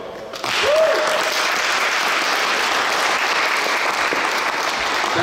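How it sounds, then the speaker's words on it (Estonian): An audience at the opening of a table tennis hall in Tallinn bursts into loud, sustained applause that starts abruptly and holds steady as a dense wash of clapping. "see väärib veelgi omadat aplausi"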